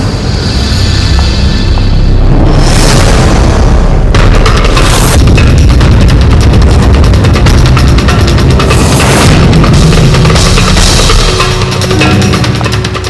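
Gunshots ring out in a CID television episode at a Pune railway station, heavy booming blasts over continuous loud action noise, with sharp bursts around the fourth and ninth seconds and no talk.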